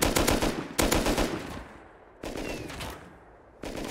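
Enemy gunfire in the survival game Rust, loud bursts of rapid automatic shots starting and stopping, with a heavy volley at the start and renewed firing later, no talking.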